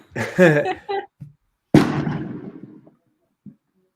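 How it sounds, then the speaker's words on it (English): A single firework goes off outdoors as one sharp, loud bang with a trailing rumble that fades over about a second, following a stretch of talk. "Oh, that was a firework."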